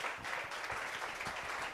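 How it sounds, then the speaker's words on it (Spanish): An audience applauds after a panel discussion at a business impact event, a steady wash of clapping from many hands that holds at an even level throughout. "No, porque se oiga ese aplauso, pero con ganas"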